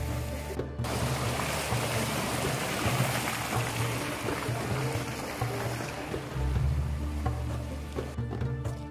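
Mountain stream flowing along the Ghaidh spring trekking path near Salalah: steady broadband rushing water, close and continuous throughout, with occasional low thumps from footsteps or handling and no talk.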